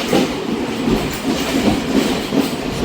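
A train at Polgahawela railway station in Sri Lanka rumbles past loud and close with a steady roar and a rhythmic clickety-clack of wheels over the rails.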